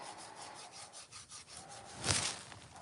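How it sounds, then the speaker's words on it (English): The edge of a ceramic teapot is sanded by hand, making a steady close rasping rub with a rhythmic back-and-forth pattern, then one louder scrape near the end, with no talking. "So I'm going to just sand the edge of this down and just bring it down just a little bit, just so it fits better."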